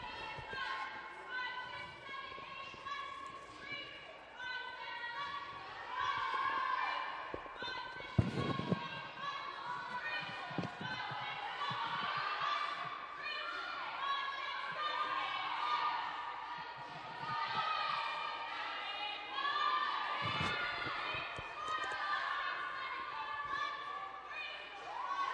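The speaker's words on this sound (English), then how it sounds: "Hear this crowd, they were on their feet" A crowd at a college acrobatics and tumbling meet cheers and roars steadily in a gym, with a commentator talking over the noise and a few sharp thuds from the floor.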